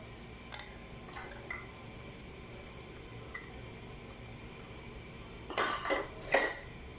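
Maida flour being worked into batter in a bowl for a Kerala bakery-style recipe: a few light spoon clinks spaced apart, then two louder bursts of scraping and mixing near the end, with no talk.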